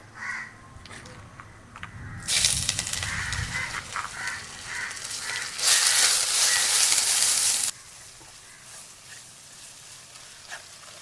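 Ginger and garlic with green chillies and curry leaves sizzle in hot oil for a Kerala chicken curry, the frying hiss surging loudly in bursts before dropping back to a low simmer, with no talking.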